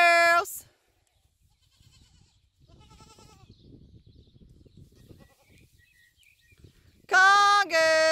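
Goats on a farm bleat loudly and close by, one call at the start and a longer wavering call near the end, with quiet rustling in between.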